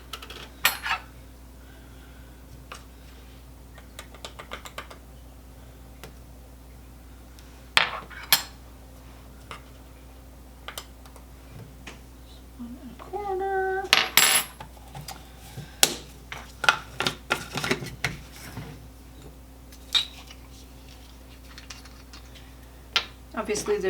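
Melted butter is stirred with seasoned salt and Worcestershire sauce for Chex party mix: irregular clinks and scrapes of a utensil against a bowl, sparse at first and then busier, over a low steady hum.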